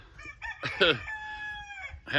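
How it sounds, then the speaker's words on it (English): A rooster crows once nearby, a strained rising call that stretches out and fades, followed by a brief clucking sound. "And you hear this rooster."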